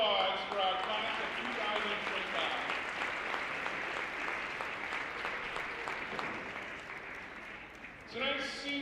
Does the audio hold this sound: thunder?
no